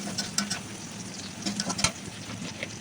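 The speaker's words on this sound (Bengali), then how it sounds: "এবারে আমি কড়াইয়ে পেঁয়াজ, কাঁচামরিচ, রসুন দিয়ে হালকা একটু ভেজে নিয়ে তেল দিয়ে দিব।" Onion, green chili and garlic sizzle in hot oil in a wok, a soft, steady frying hiss with faint patters and light stirring clicks and no talk.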